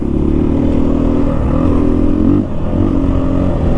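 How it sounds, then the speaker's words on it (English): 2023 KTM 500 EXC-F motorcycle revving hard in second gear in a parking lot, a loud close engine note climbing steadily in pitch, then dipping sharply and picking back up. "We're gonna do a wheelie for the boys on this parking lot."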